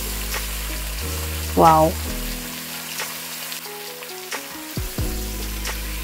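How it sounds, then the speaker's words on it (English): Ossobuco beef shank fries in a pan with a steady, close sizzle that runs throughout, broken by a few clinks and a short exclamation from a voice. "fry it for about 10 minutes."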